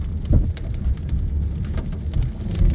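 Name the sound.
rain falling while driving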